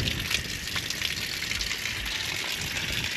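A shower on a boat runs steadily, with water gushing in a constant, broadband hiss close to the listener for the full few seconds, with no voices.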